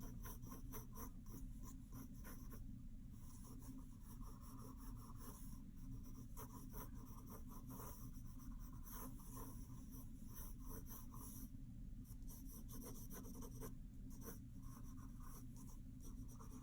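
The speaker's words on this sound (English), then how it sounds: "You can hear my pencil." A pencil scratches steadily across paper, quick rasping strokes repeating close to the microphone, quiet and continuous with no voices.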